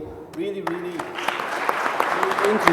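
An audience at an innovation conference roundtable starts clapping after a brief moment of talk, the applause building into a steady, moderately loud patter that continues to the end.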